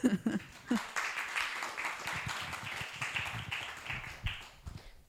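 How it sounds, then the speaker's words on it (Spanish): Audience clapping at a literary talk in Spanish, a moderate scattered patter of hands that swells after a few sharp opening claps and runs on steadily before thinning at the end. "Un aplauso para Blanca"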